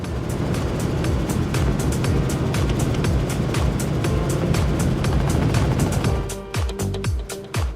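Loud, steady roar of a 48-foot MTI racing powerboat's Mercury Racing 1350 engines running flat out close by during a poker run, with the pitch shifting and sputtering near the end.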